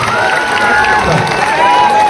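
A large crowd at a gathering for the Nidasoshi Siddha Samsthana Math swami claps and cheers loudly and steadily, a dense continuous roar of applause and voices throughout.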